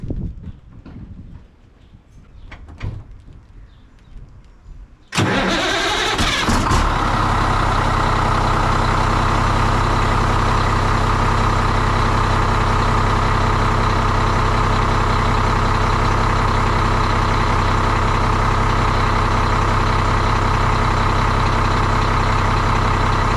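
A Cummins-engined ERF truck fitted with a straight-through Eminox exhaust cranks and fires up loud and close, then settles into a deep, steady rumbling idle after a few quiet seconds of background noise.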